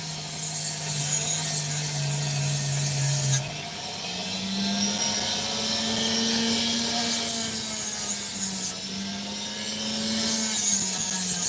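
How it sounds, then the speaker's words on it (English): A Dremel rotary tool grinds opal, giving a steady high whine that shifts pitch as the load changes, loud and close, with no voices. "It's a Dremel."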